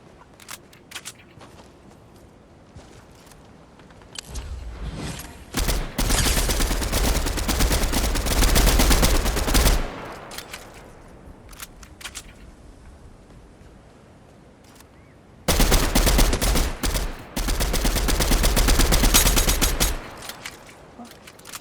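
Video game gunfire in an online battle royale match, with two long, loud bursts of rapid automatic fire and scattered single shots in the quieter gaps.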